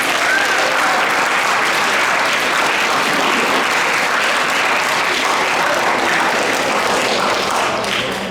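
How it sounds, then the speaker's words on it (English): Loud, sustained audience applause fills the room for the backstage crew at a high school career exploration event, steady dense clapping running the whole time with no speech over it. "Can we please get a round of applause for backstage?"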